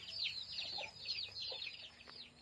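A free-range Thai backyard hen clucks and chatters in a quick series of soft, nasal calls, fairly faint against a quiet background.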